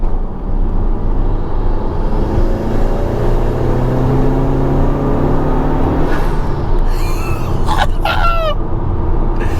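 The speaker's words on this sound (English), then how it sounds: "you just hear it's just that sucking in of air" A modified Honda Civic FK2 Type R pulls hard on boost along a straight, its intake giving a loud, steady rushing roar with low rumble, then a few sharp chirping flutters near the end.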